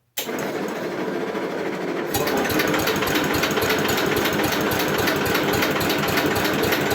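An old engine catches after a brief pause and settles into a loud, steady, fast-firing run close by, with a busy rattling pulse throughout.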